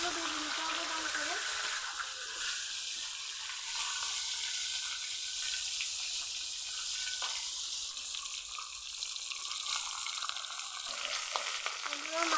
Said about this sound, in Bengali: তেল গরম করে নিয়েছি, এখন মাথাগুলো ভেজে নিব।